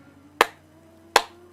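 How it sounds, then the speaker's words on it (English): Two sharp, isolated claps ring out slowly, nearly a second apart, crisp and close in an otherwise quiet space. "Slow clap"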